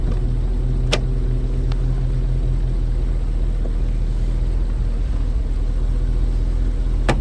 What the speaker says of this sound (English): running idling nice and smoothly